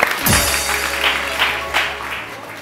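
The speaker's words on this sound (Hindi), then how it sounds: "बहुत सारी तालियां टाइगर बिस्किट्स के लिए।" Studio audience applause for Tiger Biscuits on a live morning show, a steady wash of clapping at moderate volume over a low hum, with brief swells throughout.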